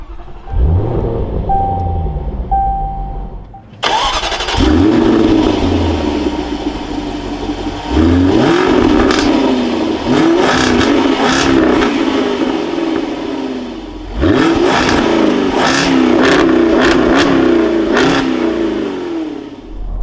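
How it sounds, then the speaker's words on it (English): A 2024 Jaguar F-Type R75 AWD convertible fires up its V8 with a loud starter crank and a sharp bark. Three strong throaty revs follow, each settling back toward idle, heard up close with no speech. "keep my foot on the brake, we can go ahead and fire up the V8"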